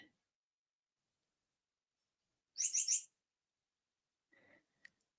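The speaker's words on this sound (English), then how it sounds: "So that's the birds you're hearing in the background." A short burst of high, rapid bird chirps in the middle, followed by a few faint, scattered chirps in otherwise quiet surroundings.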